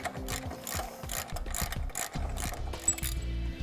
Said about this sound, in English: Now this bolt should be torqued down to 40 foot-pounds